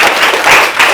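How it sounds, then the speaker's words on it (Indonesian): A short, loud burst of clapping comes from a class audience at the close of a podcast lesson, several hands beating unevenly for about a second. "Tepuk tangan dong."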